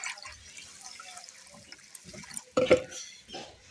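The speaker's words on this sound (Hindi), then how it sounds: "यहाँ पे अब जो है ना मैं धो रही हूँ चावल।" Rice is rinsed by hand in a pot of water, with soft sloshing and trickling throughout and a louder splash and pour near the end, close by and moderately loud.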